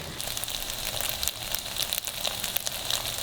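Tofu frying in a pan over medium-high heat gives a close, steady sizzle that stays even throughout, with no voices.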